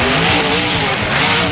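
Loud, close roar of a Mohawk Warrior monster truck in BeamNG Drive during a mud battle, its engine revving hard with tire scrub and skidding through a short burst.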